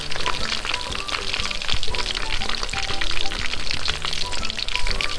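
Chicken pieces deep-frying in oil in a backyard cooking setup, a steady dense sizzle and crackle with scattered pops that run continuously and loudly throughout.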